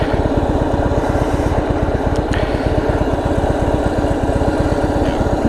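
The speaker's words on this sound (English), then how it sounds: "just the sound of the 103. That mechanical sound, I love it" A Harley-Davidson Road King Special with the 103 engine runs with a loud, close, rapid loping thump, steady throughout with a few faint clicks above it.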